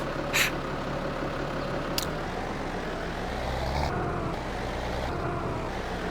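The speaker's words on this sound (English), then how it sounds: "let's move the tractor" A small tractor engine rumbles steadily as it is moved, a continuous low drone with a couple of brief hissing bursts over it.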